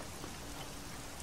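Steady rain falling in the Black Mirror II game, an even, close hiss of drops pattering on surfaces with no pauses or voices.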